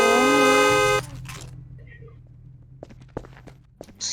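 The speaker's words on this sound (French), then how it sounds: "C'est qui klaxonne là?" A car horn honks loudly in GTA RP for about a second. It is a steady, harmonic-rich blare, and afterwards come quieter footsteps, clicks and faint movement sounds.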